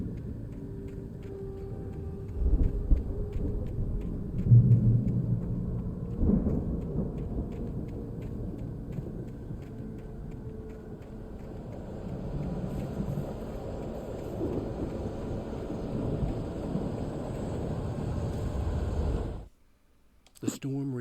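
Thunder rumbles low and heavy through a steady rainstorm in Alan Wake Remastered, with a couple of louder rolls early on, a voice talking over it, and the storm cutting out abruptly near the end.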